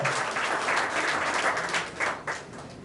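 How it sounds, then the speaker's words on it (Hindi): Loud, dense applause from a crowd welcoming people to the stage, a steady wash of clapping that rises and falls briefly before tapering off. "जबरदस्त तालियों से सबका स्वागत किया जाए।"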